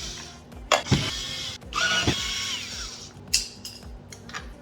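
A power tool whirs in short bursts at close range while backing screws out of a 2022 Toyota 4Runner door panel, with clicks and handling noise between the runs.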